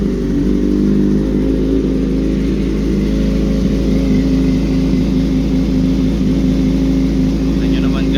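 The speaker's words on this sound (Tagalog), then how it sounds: "Start muna natin siya. Painit. Kailangan uminit yung makina." A 2021 Kawasaki ZX6R motorcycle engine idles steadily after starting, warming up with a constant close, loud mechanical drone that holds evenly throughout, with a person talking over it.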